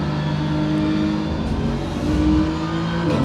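A race car in Assetto Corsa or iRacing is driven flat out, its engine droning loud and steady with slight pitch changes throughout, no talk over it.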